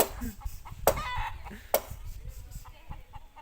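A rooster that chases strangers, clucking and crowing in short bursts with two sharp loud calls, close by and outdoors, over low background rumble and faint voices.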